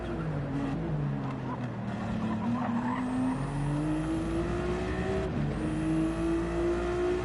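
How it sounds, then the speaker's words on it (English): Race cars in a racing video game lap Laguna Seca, tires squealing and sliding over a steady, loud engine drone, with rising and falling engine pitch and gear changes throughout. "Listen to these tires sliding."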